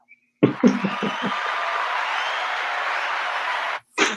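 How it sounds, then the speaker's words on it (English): A man applauding himself on a live show, a burst of dense, close clapping with a few chuckles at the start, lasting several seconds before stopping abruptly. "let me give myself an applause"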